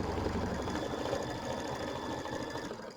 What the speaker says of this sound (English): we're going to sew out the word tweet